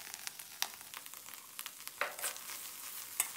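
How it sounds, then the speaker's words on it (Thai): Eggs stir-fried with garlic, sliced fresh chillies and spring onions give a quiet, soft sizzle, broken by a few light scrapes of a spatula against the pan. "แล้วก็ผัดคลุกเคล้าให้เข้ากันเล็กน้อยนะครับ"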